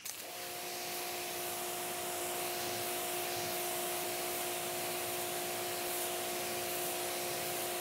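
Steady broadband hiss of a pressure-washer or hose spray rinsing a car after its tenth wash with Turtle Wax Hybrid Solutions ceramic spray coating, continuous and close with a constant pump hum beneath, no talking.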